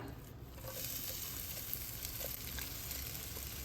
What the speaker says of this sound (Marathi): पॅनमध्ये दोन चमचे साजूक तूप घेतलेलं आहे गॅसची फ्लेम लो टू मिडियम आहे आता त्याच्यामध्ये हा भोपळा घालूया